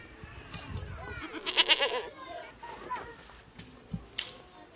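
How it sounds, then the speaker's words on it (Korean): A neighbour's goats bleating inside a house, several short, moderately loud bleats near the middle, with children's voices and household sounds around them. "이웃집 염소들이 집 안으로 들어간 겁니다."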